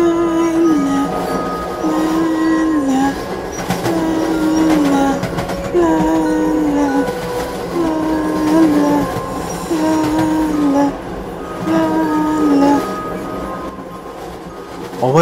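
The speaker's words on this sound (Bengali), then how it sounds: "অভয় অপেক্ষা করছিল যে পরের স্টেশন কখন আসবে, আর সে ট্রেন থেকে নেমে পরের কোচে চলে যাবে" A train runs steadily for the whole stretch as a sound effect in an animated horror story, with a continuous rumble, rhythmic clatter and a recurring higher squeal or horn-like tone, loud and close with no talk.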